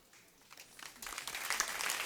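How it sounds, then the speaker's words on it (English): Applause from a school alumni prize-giving day crowd, starting faint and swelling into steady, dense clapping from many hands, moderately distant and without speech over it. "You don't have to clap for me."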